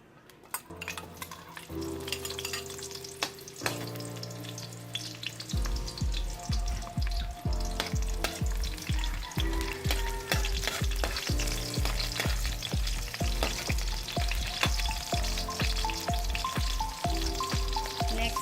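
Chopped onion sizzles in a pan for chicken liver adobo with annatto, a steady crackling fry running through the whole stretch beneath a louder, rhythmic thumping musical backing.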